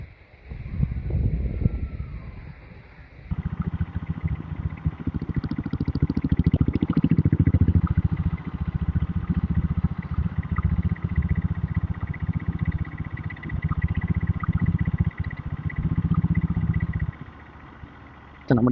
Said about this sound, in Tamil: நம்ம டீசல் புல்லட்டில் தான் வந்து போயிட்டுருக்கோம்.